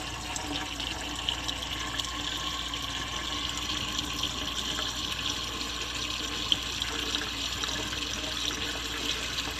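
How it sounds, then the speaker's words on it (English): Water runs steadily from a small drinking water fountain in a fresh water system being sanitized, a continuous hiss and splash without a break, fairly close and moderately loud. "And a little drinking water fountain here."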